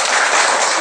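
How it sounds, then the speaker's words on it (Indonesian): A brief burst of hands clapping in a classroom, dense and close, lasting under a second. "Kita berikan tepuk tangan."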